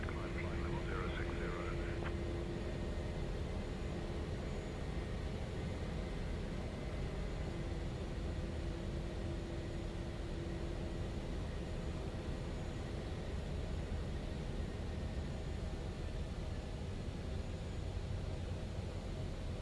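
Steady cockpit engine drone of an Embraer E190LR jet climbing out in Microsoft Flight Simulator 2024, faint and constant throughout. A brief radio-like tone comes in near the start, along with a second hum.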